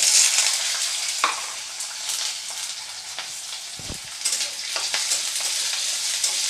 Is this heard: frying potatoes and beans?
yes